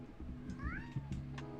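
Gibson the cat gives a short, rising meow, fairly faint against quiet room sound, with a few small bumps around it.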